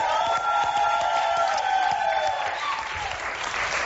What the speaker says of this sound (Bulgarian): Аплодисменти за Диана Делчев!